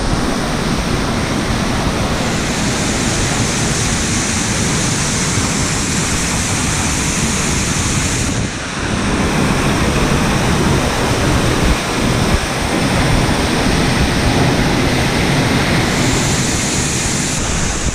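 The waterfall at Hanging Lake pours down in a loud, steady, broadband roar from close by, continuous throughout with slight wind buffeting on the microphone.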